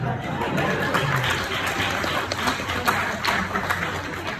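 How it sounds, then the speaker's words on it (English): Wedding guests clapping during a best man speech, a steady wash of applause and crowd noise mixed with murmuring voices, held at an even level throughout. "give yourself a round of applause"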